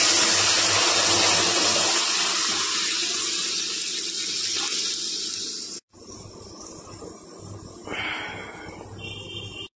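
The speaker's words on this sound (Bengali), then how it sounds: "ডালটা দিয়ে দেব।" Lentils go into a hot pan of tempered spices for Bengali mulo dal, giving a loud sizzling hiss that fades slowly, is cut off briefly, then returns with stirring and frying sounds.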